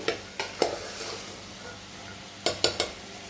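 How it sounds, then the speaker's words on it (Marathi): Chickpeas (chhole) being sautéed in a pan, with a steady faint sizzle under a few sharp scraping clinks of a spoon against the pan in two short bursts, no talking. "आता याला 1-2 मिनिट असंच त्याच्यात थोडंसं परतू देऊयात व्यवस्थित छोले"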